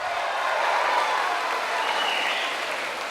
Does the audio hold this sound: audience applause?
yes